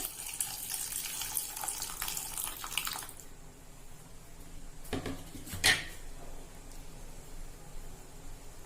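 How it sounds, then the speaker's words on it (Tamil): Tamarind water pours into a pot of cooking Kerala-style pulinkari with pumpkin and ash gourd, a steady splashing stream for about three seconds. Quieter kitchen clatter follows, with a couple of brief knocks of a vessel. "புளி தண்ணி கரைச்சி வச்சிருக்கேன், அதையும் விடுறேன்"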